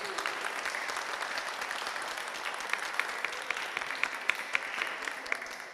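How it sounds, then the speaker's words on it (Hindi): Congregation applause at a Friday prayer meeting in a church, steady clapping from a gathered crowd welcoming guests, moderately loud with individual claps standing out toward the end. "ज़ोरदार तालियों में इनको वेलकम करेंगे।"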